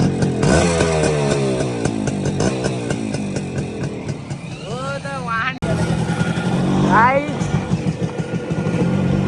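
A motorcycle engine runs and revs after an accident, its rising and falling whine cut off briefly before revving again, close and loud, with people talking over it.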